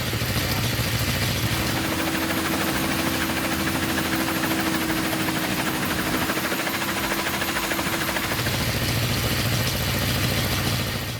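A homemade helicopter built by a farmer's son in Kugdiya village, Bhavnagar district, Gujarat, runs its engine in a loud, unbroken, vibrating drone with a steady mechanical hum from start to finish.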